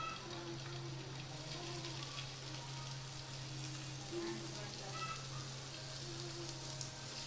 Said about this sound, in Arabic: هنزل بقى بالجمبري بتاعي